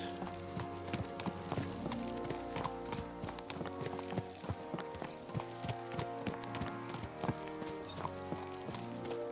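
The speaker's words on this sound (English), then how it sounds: "Let's really spur these horses on, eh?" Horses galloping in the video game Kingdom Come: Deliverance 2, rapid rhythmic hoofbeats and clip-clop over a bed of music, steady and fairly close.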